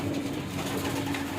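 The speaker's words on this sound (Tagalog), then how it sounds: "Ayan po yung mga ibon natin." Breeder pigeons coo steadily and close by in a continuous, low, throaty burble that fills the whole short moment.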